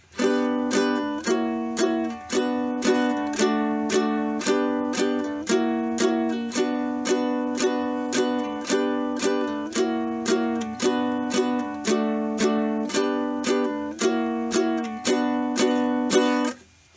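A ukulele strums a song's outro in a steady, driving rhythm of crisp repeated chords, close and even in loudness, with no voice over it for about seventeen seconds.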